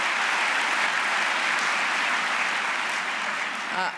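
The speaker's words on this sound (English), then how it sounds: "So let's give them a wonderful round of applause." A large audience at a Let's Move anniversary event hosted by Nemours gives dense, steady applause that stays loud throughout, with a faint voice briefly near the end.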